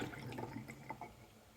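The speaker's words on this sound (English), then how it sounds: "Run the hot water over the tomato" Hot tap water runs steadily over a single tomato in a kitchen colander, a close, continuous gush and splash with no talking.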